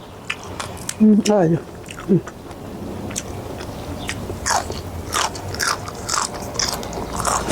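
Someone eating roasted shrimp paste with catfish and fresh vegetables, a few loud close bites and crunchy chews near the start, then softer chewing and mouth sounds continuing to the end.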